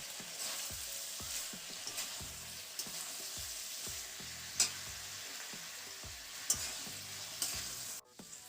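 Cut brinjal (eggplant) sizzles in hot oil in a pan, with a steady frying hiss and repeated clinks and scrapes of a spatula stirring, a few sharper knocks standing out; no one speaks.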